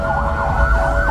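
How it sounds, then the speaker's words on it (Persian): Ambulance sirens wail steadily and loudly through Beirut streets in the aftermath of pager explosions, a continuous rising-and-falling tone over low traffic rumble. "صدای آژیر آمبولانس ها از نقاط مختلف به طرف بیمارستان ها"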